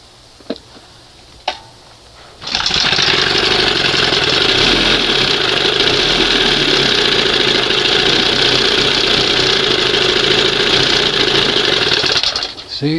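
A 1971 Johnson 20 HP outboard motor fitted with a chainsaw primer catches after a couple of knocks and runs loud and close, buzzing high and fast and not idling down, then briefly dips at the end.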